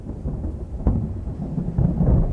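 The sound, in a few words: thunderstorm with pouring rain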